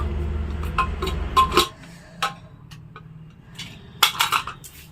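A pressure cooker steaming semolina bhapa pitha is opened after cooking. A low hiss gives way to sharp metallic clicks and clanks of the lid being handled, close and fairly loud, with quiet gaps between.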